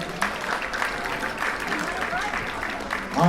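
Audience applause for a young contestant at an elementary-school spelling bee for third and fourth graders, a steady wash of clapping for about three seconds that swells louder near the end.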